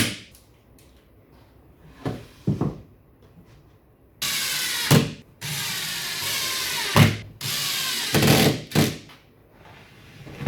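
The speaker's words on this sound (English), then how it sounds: "we're just going to screw directly into the cabinet top" A power drill drives screws into a wooden workbench cabinet top in several short whirring bursts, with scraping, knocking and handling sounds between them in a quiet workshop.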